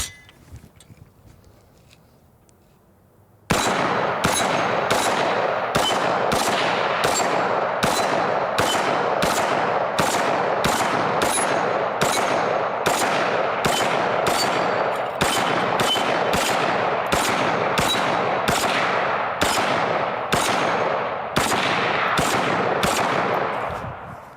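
A 7.62 rifle fired in rapid succession, playing back from a video: after a quiet start, a long run of loud, evenly spaced sharp shots that continues without a break.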